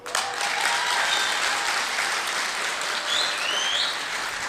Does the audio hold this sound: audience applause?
yes